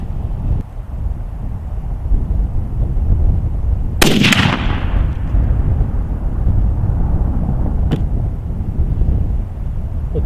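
A single loud crack from a Savage Axis XP .308 rifle rings out over steady outdoor wind noise and echoes briefly. A faint click comes a few seconds later.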